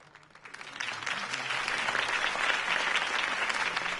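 Sustained applause from a large video game crowd at a campaign speech swells up after a quiet start and continues steadily, dense and loud.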